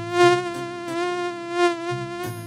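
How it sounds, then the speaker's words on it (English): Mosquitoes buzzing in an animated kids' short, a loud, close, steady whining drone that swells and fades several times with no speech over it. "these mosquitoes are turning my nights into nightmares!"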